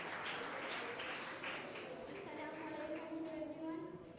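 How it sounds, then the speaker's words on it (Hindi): A crowd of people at a school students' visit to the Sindh Governor House in Karachi applauding, a broad, steady wash of clapping from many hands that fades slightly at the end. "बस इनके लिए भरपूर ताली बजाएं"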